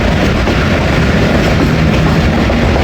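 The 48 Down Rehman Baba Express passing near Chaklala, Rawalpindi, heard as a loud, close, continuous rumble with rolling rail clatter throughout.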